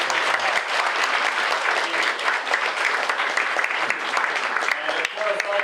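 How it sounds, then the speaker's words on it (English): Sustained audience applause for Senator Dick Black at a Vietnamese Women's Association of Washington Area event, a dense, steady clapping from a large crowd that fills the whole stretch at even loudness. "let's give a big round of applause to Senator Dick Black"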